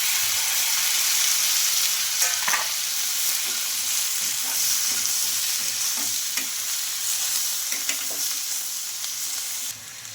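Garlic, ginger and small chopped tomato pieces frying in a pan, a steady loud sizzle with intermittent spoon scrapes and stirring clatter, nearby and without talk.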